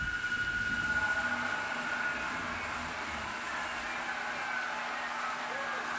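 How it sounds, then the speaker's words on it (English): An N-scale Rapido Amtrak Turboliner model train running on third-rail electric mode, with its pickup shoe engaged after the turbine sound shuts down, gives off a steady, fairly loud whirring hum with a hiss that holds evenly throughout. "So you hear those turbos shut down, and you hear that third rail runner or pickup shoe kick in, the sound of it there."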